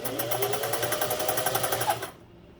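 A Singer 401A sewing machine stitching decorative arcs at a short stitch length: a steady, close, rapid mechanical chatter with no voices, running for about two seconds before cutting off abruptly into silence.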